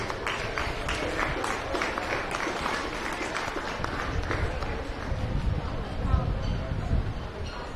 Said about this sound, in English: Let's go ahead and give our individuals a nice round of applause.